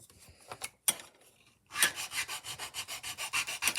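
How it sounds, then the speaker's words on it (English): A piece of styrene is sanded against a firm surface for a scale diorama build. A few separate scrapes come first, then after a pause a steady run of rhythmic rasping back-and-forth strokes, close and clear. "It's always good to sand onto a firm surface."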